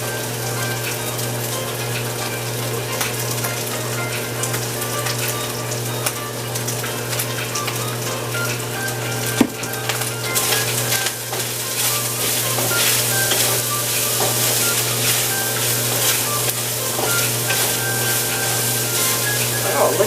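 Onions for chicken fried rice sizzle steadily in hot oil in a pan, a loud continuous frying hiss with a brief clatter partway through.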